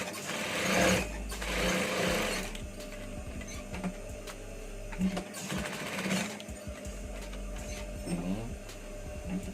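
A sewing machine stitches down a shirt collar in bursts of rapid, steady mechanical whirring, close and loud, with brief pauses and a quiet voice speaking at points.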